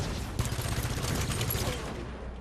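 Gunfire in the Halo 5 video game: a dense, continuous barrage of rapid shots, loud and close from start to finish, with no voices.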